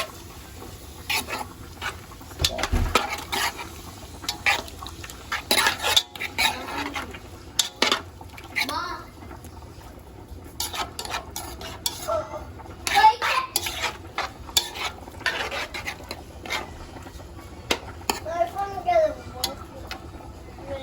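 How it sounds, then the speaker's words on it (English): A spoon stirs a tomato sauce with shrimp in a pan, scraping and clinking in irregular bursts over a faint sizzle, while a person talks on and off throughout. "I'm gonna stir it all around"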